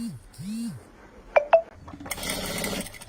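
A sewing machine stitching along a bag flap, a short close whirring run following a couple of sharp clicks, with a voice speaking briefly beforehand.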